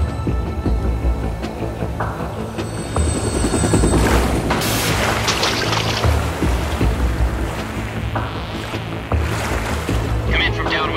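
A military helicopter in Metal Gear Solid 2 thrums steadily and loudly as it approaches, its rotor drone running throughout beneath radio-style spoken dialogue.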